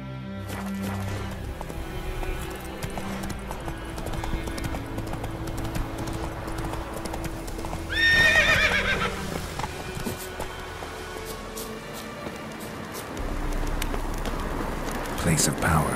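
Roach, the horse in The Witcher 3, gallops with rapid, steady hoofbeats across an outdoor landscape, and a brief bright burst rises midway.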